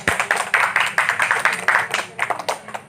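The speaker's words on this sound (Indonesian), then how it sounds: "Ya, tepuk tangan." A small group claps hands in a quick, fairly steady rhythm for a few seconds, close by, with faint voices underneath.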